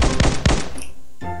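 Shots fired in the Tipe-X simulator game come as two quick, loud, punchy bursts close together, followed by a short electronic tone.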